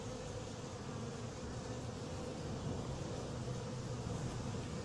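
Bees buzz continuously around an anti-hornet mesh tent, a dense steady drone that holds evenly from start to finish.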